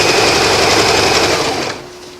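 A sewing machine stitches through a tough elastic waistband, a loud, fast, steady mechanical whir of the needle that runs continuously and then winds down near the end.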